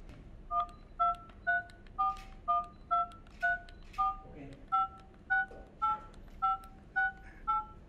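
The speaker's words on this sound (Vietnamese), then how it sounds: "các phím còn lại ấy, có độ đàn hồi rất tốt các bạn nghe này" Keys on a BKAV C85 phone keypad are pressed one after another, each giving a short dual-tone beep, about fifteen evenly paced presses, fairly soft and close with light background noise.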